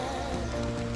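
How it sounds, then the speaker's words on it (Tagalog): Heavy rain during a motorcycle rideout, a dense steady wash of noise filling the whole second at constant loudness, with no voices. "Tarnang malakas na ulan."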